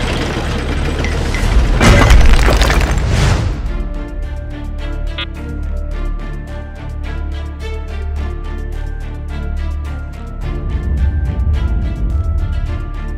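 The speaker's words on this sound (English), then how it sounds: "Soon the bunker will explode," A bunker blows up in an animated tank cartoon: a loud, rumbling explosion bursts early, then gives way to a low mechanical hum with faint metallic ringing and debris settling.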